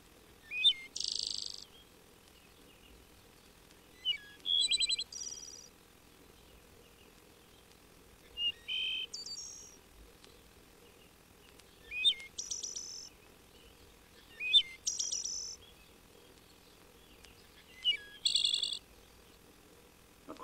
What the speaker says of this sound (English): Followed by the liquid phrases of the wood thrush.